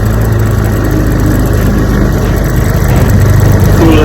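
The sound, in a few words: 1973 Johnson 9.5 HP outboard motor running at idle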